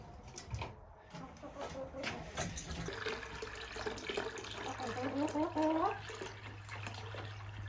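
Tap water runs steadily while a water dish is filled for pet birds, a continuous nearby splashing flow with faint chirps rising near the end.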